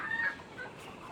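Hens cluck softly on a quail and gamefowl farm, a faint, brief burst of fowl calls over quiet ambient background.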